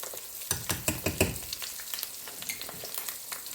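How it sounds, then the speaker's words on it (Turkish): Eggs cracked into hot butter in a pan, with sharp crackling pops and spits clustered early, then settling into a lighter, steady sizzle close by. "yağda yumurtalarımızı kırıyoruz"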